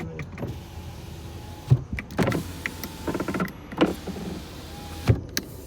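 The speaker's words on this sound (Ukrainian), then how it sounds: "Всі стеклопідйомнички у нас, звичайно працюють." Electric power windows on a Volkswagen Golf 6 whirring up and down in several short motor bursts, each ending in a soft clunk, with quiet car cabin ambience between them.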